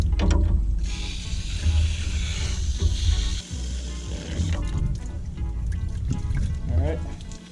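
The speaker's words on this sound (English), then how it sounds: "we're going to fill it with water" Water is poured into the radiator of a 1985 Ford Mustang LX 5.0 Foxbody during a cooling system flush, giving a close, steady liquid pour and gurgle with some handling noise.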